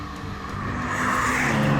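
A second-generation BMW M2, a rear-wheel-drive M car, accelerates hard with a brief, rising engine roar that grows louder over a couple of seconds, with no talking.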